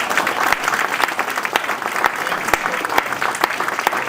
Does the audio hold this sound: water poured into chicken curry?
no